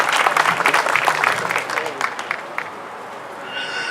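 Audience applause at a city Veterans Day ceremony in El Monte, a dense wash of clapping that is loud at first and then fades out over a few seconds.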